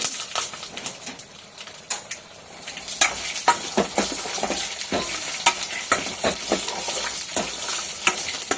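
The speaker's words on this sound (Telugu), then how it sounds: "టమాటా మంచిగా ఫ్రై అయిపోయాలి అప్పుడు చట్నీ సూపర్ వస్తుంది" Tomatoes fry in a pan for chutney, giving a steady crackling sizzle with frequent sharp clicks and scrapes as they are stirred, close and fairly loud throughout with no talking.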